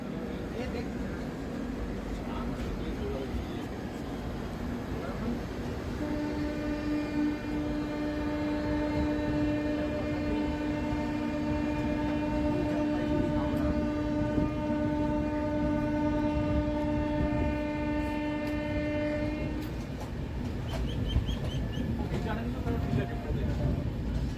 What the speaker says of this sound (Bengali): দুটো ট্রেন একই সঙ্গে ছেড়ে যাচ্ছে